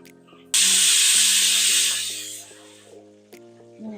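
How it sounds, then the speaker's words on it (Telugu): Large chicken pieces for chicken mandi drop into hot oil, setting off a loud sudden hiss and sizzle that fades over a couple of seconds, heard close with a steady low hum underneath. "సో ఫస్ట్ 5 minutes ఒక సైడ్ ఫ్రై అయిన తర్వాత మళ్ళీ తిప్పుదాము"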